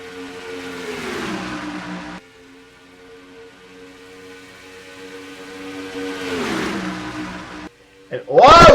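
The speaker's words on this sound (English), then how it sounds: "Several cars getting awfully beaten and banging with each other down the backstretch here as they come into turn number 3." Race cars roar through two long acceleration passes in a racing video game set at Michigan, the engine tone sweeping downward as each car passes, with a brief quiet stretch between and a sharper burst at the end.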